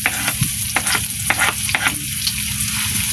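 Onions frying and being stirred in a pan, a loud, continuous close sizzle with repeated scraping strokes of a utensil, no voices over it.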